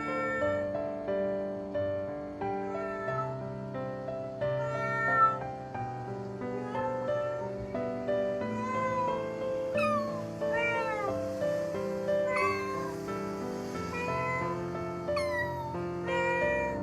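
A small kitten found hiding in a shop meows repeatedly in high, rising and falling cries, close and clear, over a steady tonal background of music.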